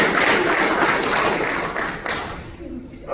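A church congregation claps together, a loud, busy mix of hands and thumps with some voices mixed in, thinning out toward the end of the short burst.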